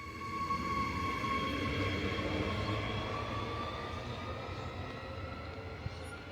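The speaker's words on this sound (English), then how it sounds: "that's a train arriving at Wulkuraka railway station in Ipswich" A train pulls into Wulkuraka railway station in Ipswich, Australia, a steady rumbling roll with a faint high squeal, moderately distant and slowly fading as it arrives, with no talk.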